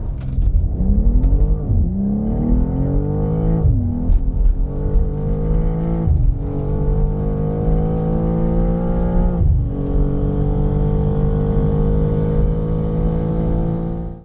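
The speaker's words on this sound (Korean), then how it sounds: "그렇다면 시속 200km까지 가속을 볼까요?" A 2024 BMW M2 with the S58 engine accelerates hard up to 200 km/h. The loud engine note climbs in pitch through several quick upshifts, each marked by a brief dip before it rises again, with no voices over it.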